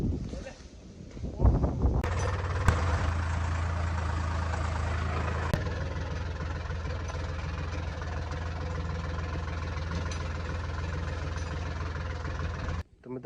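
A tractor engine idles close by with a steady low rumble and faint knocking throughout, a couple of sharp knocks early on, then running evenly until it cuts off near the end.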